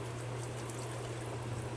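Hot water pours and trickles steadily over a low hum as it is squeezed out of dahi vada, a continuous draining flow with no voices.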